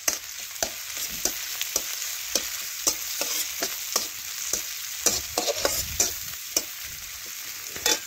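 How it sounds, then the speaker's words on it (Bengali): Chopped tomato being stirred into onions in a frying pan: a steady sizzle runs throughout, broken by repeated sharp scrapes and clacks of a spatula at an uneven rhythm, close and clear, with no talking. "এই দেখুন একটু ভালোভাবে পেঁয়াজের সাথে নাড়াচাড়া করে মিশিয়ে নিচ্ছি।"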